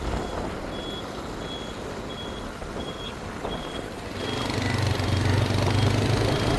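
Lorries grind along a harbour side road, with a truck's reversing alarm beeping at regular intervals over diesel engine rumble that swells louder and closer as a heavy vehicle passes.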